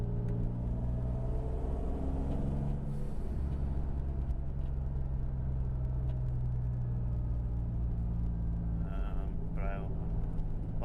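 A project car fitted with a Scorpion exhaust runs steadily with a deep, loud, continuous engine rumble, heard close throughout with no clear rise or fall in revs.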